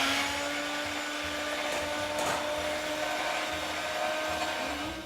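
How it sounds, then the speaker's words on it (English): Electric mixer whisking egg whites with a touch of salt for French macarons, a steady high whine running close and unbroken throughout, with no talking. "We'll start whisking."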